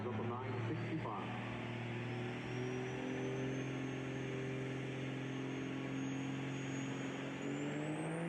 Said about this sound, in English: Emmanuel Yoder on the 770 dial in the big Dodge against Donald Streetman in the BMW.